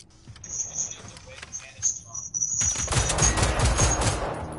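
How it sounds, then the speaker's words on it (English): Video game gunfire in Generation Zero, a few scattered shots followed by a long burst of rapid automatic fire aimed at red canisters, with a high mechanical whine early on and a voice talking over it. "Make sure to shoot at the red canister on them"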